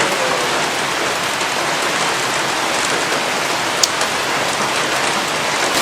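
Heavy tropical rain pours steadily in forested mountains in Bolivia, a dense even hiss of drops with one brief sharper patter, close and loud with no voices.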